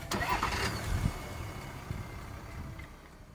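Range Rover D350 with a twin-turbocharged Ingenium inline six-cylinder diesel starting up: a brief cranking catch followed by the engine settling into a low, even idle, fairly quiet and close.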